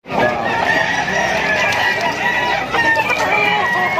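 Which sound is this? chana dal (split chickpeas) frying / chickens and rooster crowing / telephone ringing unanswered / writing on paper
chickens and rooster crowing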